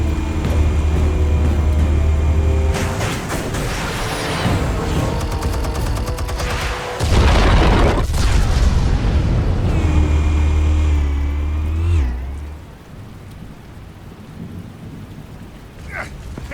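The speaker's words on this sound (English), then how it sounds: "Explosives armed. Fire when ready." Loud booming blasts from an explosion in the Batman Telltale video game, Season 1 Episode 1, with heavy rumbling and crackling debris lasting about twelve seconds before fading into quieter ambience.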